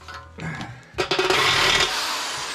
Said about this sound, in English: Take out the drill again.